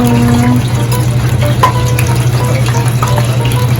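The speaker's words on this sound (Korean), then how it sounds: "저는 타코야키볼를 튀길게요." Takoyaki balls fry in a pan of oil at a PC café counter in Changwon, a loud, steady sizzle with a constant low hum beneath it and small crackles, with no voices.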